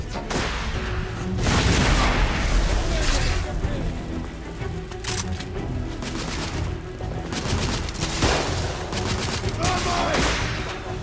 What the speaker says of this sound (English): I'm gonna go with the thermite rifle!